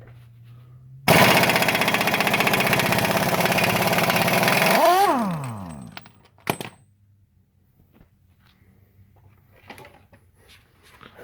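An impact wrench loosening the 32 mm axle shaft nut on a 2012–2017 Mazda 5 during axle seal work, a loud continuous rattling burst of about four seconds that winds down, followed by a sharp metallic clink and faint handling noises.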